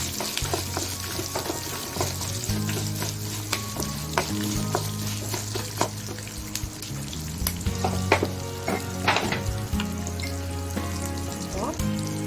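Small shallots frying for snake gourd chutney give a steady, close crackling sizzle, with repeated sharp spatula scrapes and taps against the pan throughout.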